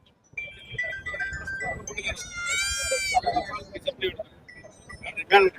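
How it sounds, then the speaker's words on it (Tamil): Mylambadi sheep lambs at the Kunnathur goat market bleat in short, wavering calls. The calls mix with nearby voices and a brief electronic ringtone melody in a busy, close setting. "இது பார்த்தீங்கன்னா மயிலம்பாடி குட்டி அப்படிம்பாங்க"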